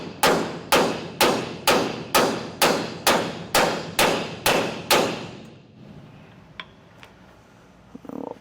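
Ten sharp, evenly spaced hammer blows drive a collar onto a spring shackle hanger on a 6,000-lb trailer axle with a 5-leaf slipper spring, ringing loud and close before quiet shop noise and a few faint clinks.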